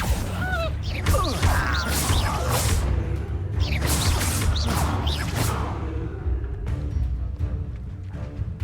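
Accio summoning spell cast repeatedly in the Hogwarts Legacy video game, a dense run of whooshing, crackling magical swishes and mechanical clatter over a steady low game score, with several sharp bursts.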